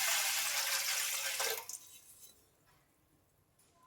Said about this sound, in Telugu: ఇగో నేను ఇక్కడ నీళ్ళు పోసుకుంటున్నాను